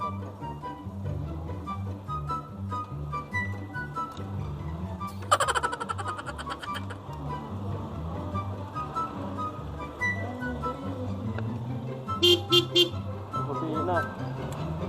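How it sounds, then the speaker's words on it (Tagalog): Honking from a RUSI scooter that has trouble starting, in two bursts: a longer blast, then a shorter, choppier one, both over a steady idling engine. "Busina."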